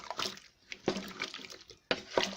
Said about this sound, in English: Now stir the pot.